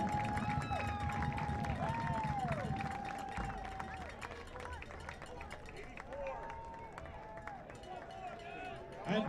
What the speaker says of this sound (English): How about one more round of applause for the Montclair State senior class of